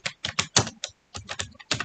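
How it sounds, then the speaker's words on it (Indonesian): Computer keyboard keys pressed in quick succession on an office PC, about nine crisp close clicks in uneven bursts with a short pause midway, and no talking over them. "tinggal tekan tombol keyboard panah ke bawah"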